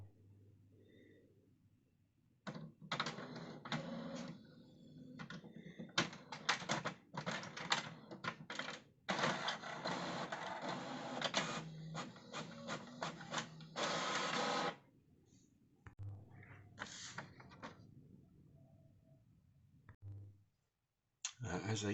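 HP Envy 5546 Wi-Fi inkjet printer printing output sent from a ZX Spectrum 48K through a Multiprint interface: bursts of mechanical whirring, clicking and paper-feed clatter with pauses between, close and fairly loud.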